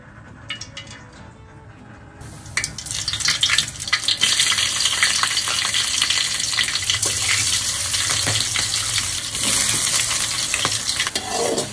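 Whole spices temper in hot oil in a home kitchen, starting with a few quiet clinks before a close, loud sizzle takes over, broken by steady stirring and scraping in the pan.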